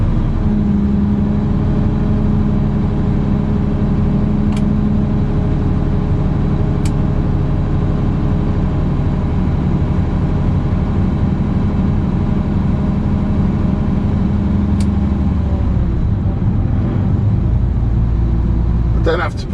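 A lorry's hook loader draws its hook back up and in while the engine idles, giving a steady low rumble with a hydraulic whine. A few brief clanks cut through, and the engine note shifts near the end.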